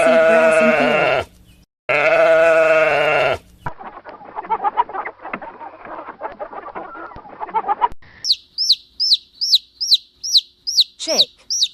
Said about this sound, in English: Sheep eat grass in field.